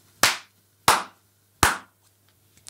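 Three single hand claps, evenly spaced, ring out in a small, somewhat live studio room with smooth plastered walls, each followed by a short bright decay and a low hum underneath.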